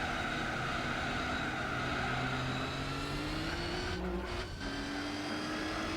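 The Volkswagen Nardo W12 concept's engine in Gran Turismo 4 drones steadily at high revs, with a gear change causing a brief dip before the tone climbs again, continuous and unaccompanied by talk.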